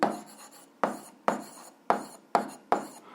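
Pen strokes on paper while writing out a seventh-grade algebra solution by hand, six distinct scratchy strokes in an uneven rhythm, close and quiet with no talking.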